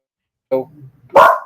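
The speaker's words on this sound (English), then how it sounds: "so she's barking." A dog lets out two short barks close by, the second louder and sharper, with a voice nearby.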